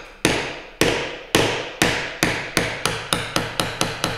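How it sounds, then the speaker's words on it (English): A small bevel-edge chisel is hammered through a hand-cut through mortise in wood, about a dozen sharp, close mallet strikes that start spaced out and then come faster and slightly softer. "a little bevel edge chisel such as this one will easily penetrate through that"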